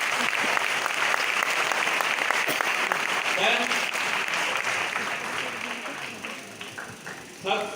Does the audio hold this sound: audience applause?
yes